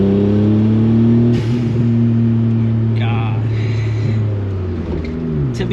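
Suzuki Alto Works engine pulling through the gears, a loud in-cabin drone with rising pitch, brief drops at the shifts, and a voice speaking briefly over it.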